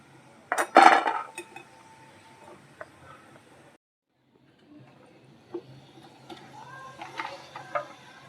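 Fried besan muthiya lifted from the pan onto a plate give a sharp metallic clatter of utensil against dish near the start, then scattered lighter clinks and scrapes after a brief pause.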